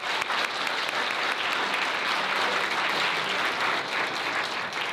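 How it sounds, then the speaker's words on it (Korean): Warm, steady applause from wedding guests fills a ceremony in a Korean convention grand hall, dense and sustained throughout with no break, with no voices standing out. "우리 이 서약에 화답하는 의미로 함께 감사의 박수를 드릴까요?"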